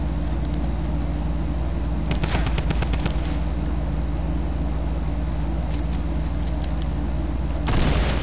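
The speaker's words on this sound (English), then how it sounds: "Who said you could shoot at me?" Rapid video-game gunfire rattles in a dense burst of shots around the middle, with a few scattered shots later, layered over a constant loud game soundtrack and hum.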